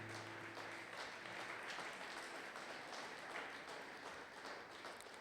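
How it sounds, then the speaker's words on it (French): A church congregation at a Sunday thanksgiving and praise service applauds for Jesus, a faint, steady wash of clapping heard from a distance throughout. "Est-ce que tu peux acclamer pour Jésus?"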